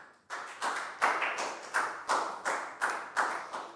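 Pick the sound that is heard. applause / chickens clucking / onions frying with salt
applause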